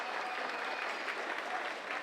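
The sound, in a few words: audience applause for the centennial light bulb's birthday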